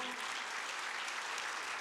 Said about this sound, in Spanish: Le da un aplauso a la palabra del Señor.